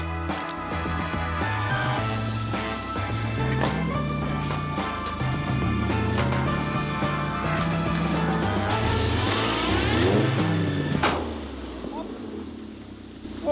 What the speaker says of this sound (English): I don't think any car should sound like that ever.